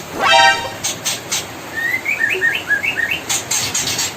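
High, thin chirps from 12-day-old white-rumped shama chicks in quick repeated bursts, fairly close and clear, with a brief louder chirping flurry at the start.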